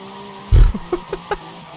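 A car skids under handbrake with tires squealing: a loud burst of tire and body noise, then a few short rising squeals over a steady engine hum.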